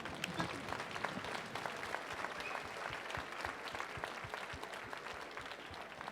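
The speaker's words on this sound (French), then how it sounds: "On les applaudit au Maroc." An audience at a science festival inauguration claps steadily for several seconds, a dense patter of hands heard from a distance, fairly soft and without cheering.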